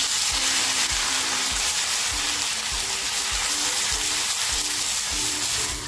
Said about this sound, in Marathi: जो मसाला वाटून घेतलाय तो तेलात टाकून छान फ्राय करून घेते